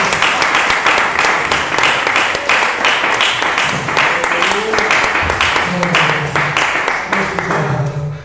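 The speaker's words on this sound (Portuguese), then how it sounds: "Recebeu o Senhor com muita salva de palmas para Jesus." A church congregation claps steadily and loudly, sustained applause filling the room, with a voice speaking over it.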